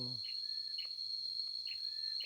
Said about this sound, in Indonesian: terus mendengarkan suara-suara tonggeret